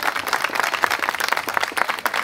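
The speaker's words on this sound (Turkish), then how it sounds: "güzel bir alkış" Audience at a Turkish community association event clapping, a dense, lively burst of many hands applauding close by, brief and steady.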